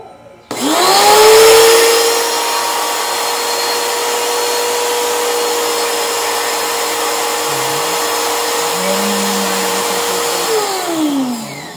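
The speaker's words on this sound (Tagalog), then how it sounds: "Saka paandarin na natin ang pressure washer." A pressure washer starts and runs as a steady, loud mechanical drone close by, holding an even pitch for about ten seconds before winding down near the end.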